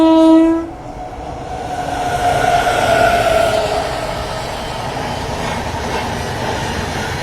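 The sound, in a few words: train arriving at Chunar Junction railway station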